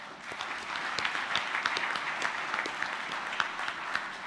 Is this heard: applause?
yes